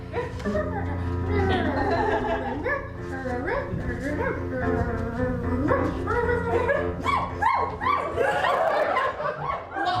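A live improv performer imitates a dog, giving repeated yappy barks and whines in a comedy show. Audience laughter and chuckles run throughout, and voices talk around the barking.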